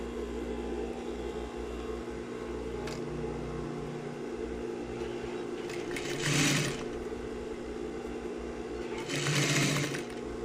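Sewing machine running steadily as it stitches a tailored sleeve, a close, continuous mechanical whir with two brief louder swells near the end, no talk.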